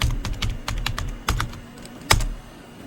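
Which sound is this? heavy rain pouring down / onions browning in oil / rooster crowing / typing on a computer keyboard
typing on a computer keyboard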